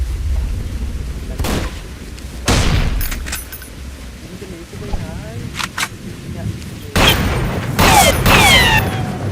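Gunfire from other players in a post-apocalyptic survival video game, sharp bursts and single shots at close to mid distance, with excited talking between them.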